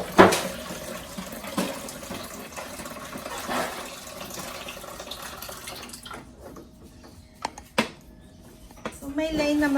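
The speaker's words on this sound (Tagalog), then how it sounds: "lagyan natin ng tubig." Water splashes and gurgles as it is poured into the plastic water tank of an espresso machine, a rushing fill sound with clinks of handling, fairly close and moderate in level, with a few sharp knocks near the end.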